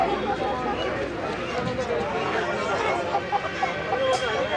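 Roosters cluck amid a busy poultry market in India, the birds faint and mixed into steady crowd chatter while people talk nearby.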